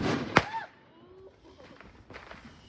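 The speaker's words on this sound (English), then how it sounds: "here comes the fireworks" Outdoor fireworks display: one sharp close bang early on with whistling, crackling trails after it, then fainter distant pops and rumbles, with some voices in the background.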